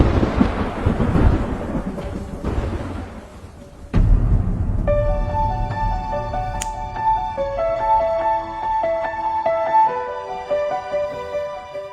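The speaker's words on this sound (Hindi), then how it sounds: "बाहर इतनी तेज बारिश हो रही" Heavy rain and thunder outdoors, a loud rolling rumble with dense rainfall noise filling the first seconds, then rain continuing as steady musical tones come in over it.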